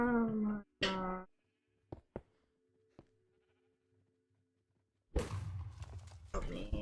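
Sheep in the Minecraft video game bleat twice, clearly and close, with a few soft clicks and taps between them, and people talk at the end.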